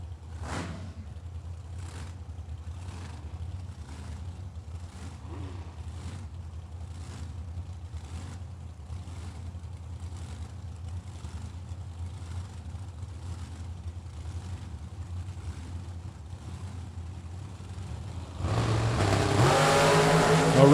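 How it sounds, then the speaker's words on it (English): Drag racing door cars at a strip make a steady engine drone with faint rhythmic ticking, then burst into a loud, roaring burnout near the end. "The burnouts are getting bigger for the Squires boys that are in left-hand lane."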